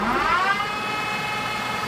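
Engine lathe spindle on a 15-inch by 54-inch LeBlond-Makino servo shift lathe winding up toward 1282 RPM, a rising whine that settles into a steady high hum, brief and moderately quiet.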